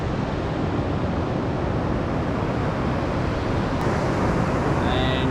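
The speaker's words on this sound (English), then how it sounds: "Only thing that you can hear is the waves, the sound from coming out from the waves." Ocean waves on an empty beach on a foggy morning, a steady broad wash of surf that holds level throughout, with no talk over it.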